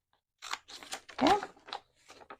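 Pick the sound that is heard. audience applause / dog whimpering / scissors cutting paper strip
scissors cutting paper strip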